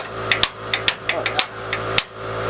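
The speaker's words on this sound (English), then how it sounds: "the trusty Craftsman hammer out here, see if the sway bar wants" A Craftsman hammer strikes the sway bar on a 2017 Ram 3500 during a leveling kit install, about ten sharp metallic blows in an uneven rhythm, loud and close, with no talking.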